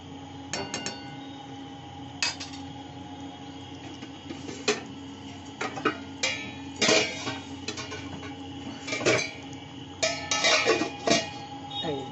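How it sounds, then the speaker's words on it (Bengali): A lid clinks and knocks onto a pot of thin turmeric fish curry with potatoes, a few sharp metallic taps and scrapes scattered across a quiet kitchen, with no talking. "এইবার এটা ঢাকা দিয়ে রাখতে হবে"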